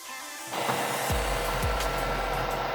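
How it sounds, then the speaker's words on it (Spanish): An Epson WF-2860 inkjet printer starts its initialization cycle, shifting from a quiet hum into a steady mechanical whirr with a couple of soft clunks as the mechanism engages, close and continuous. "ahí ya empezó la inicialización y aquí dice que dura aproximadamente 5 minutos"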